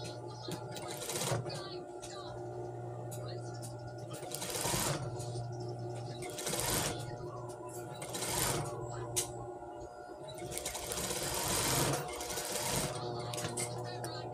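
A domestic sewing machine stitches seams on a blouse for a teacher's uniform, running in steady whirring bursts with short pauses between runs, close and fairly loud.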